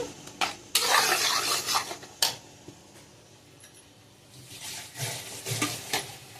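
Masala spices stir-fried in oil for a ridge gourd gojju, with scraping and stirring bursts, soft sizzling and pan clatter at close range, no talking.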